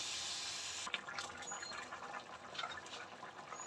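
Water poured into a pot of vegetable shukto, a quiet rushing pour that gives way to gurgling and splashing as the liquid settles, fairly faint and with no talking.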